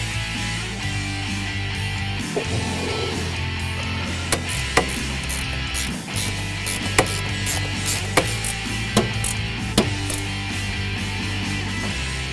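Ratchet tightening brake lines at the master cylinder and proportioning valve of a 1965-66 Mustang power brake conversion, giving several sharp clicking bursts over a steady mechanical hum.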